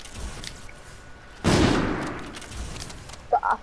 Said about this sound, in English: I've just used my assault rifle.